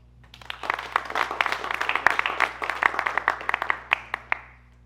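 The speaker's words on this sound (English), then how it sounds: "Give RAG one last round of applause." A small audience claps after a team's presentation at an indoor custom LLM hackathon, swelling from a few hands into steady close applause, then tapering off to scattered last claps.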